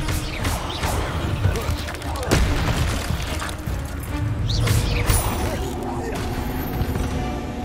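Expelliarmus disarming spell from Hogwarts Legacy blasting amid a dense game fight, with booming impacts, crashes and mechanical clatter layered over a constant loud rumble.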